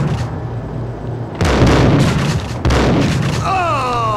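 Grenade explosions in the Max Payne video game: two loud, heavy blasts land about a second apart, each leaving a rumbling tail, followed by rising and falling whistling tones.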